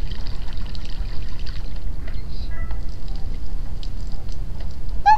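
Water pouring onto a plant in a video game, a short trickling, splashing pour that runs steadily and stays close, with a few small chime-like effects near the end and no talk.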